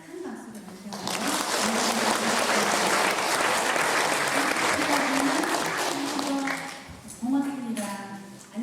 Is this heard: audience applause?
yes